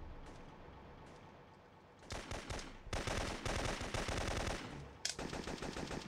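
Automatic gunfire in the video game Syphon Filter 3, a quiet stretch giving way to loud rapid bursts of shots, one sharp crack near the end before more fire.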